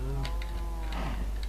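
Cows in Minecraft give low, drawn-out moos, close and clear over a steady background hum, with faint clicking of keys.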